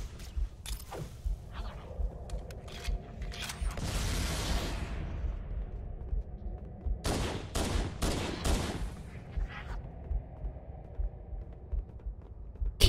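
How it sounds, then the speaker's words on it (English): Gunfire and needler weapons in Halo: Combat Evolved, sharp repeated shots and bursts, some in quick clusters and one longer rushing blast, with quiet gaps between. "Who the heck is shooting at me?"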